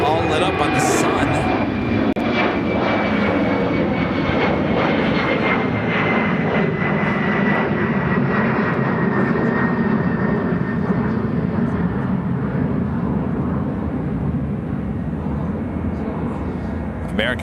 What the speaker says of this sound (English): American Airlines Flight 160, 787-9 Dreamliner heading to Athens, Greece, heading to 28 right.